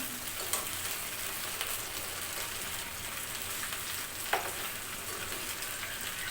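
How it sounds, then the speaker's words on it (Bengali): Tilapia fish frying in a pan over a very low gas flame, a soft, even crackling sizzle with occasional faint pops and a brief spatter burst, no voices. "এটা ভাজি চলছে মাছটা ভেজে হচ্ছে"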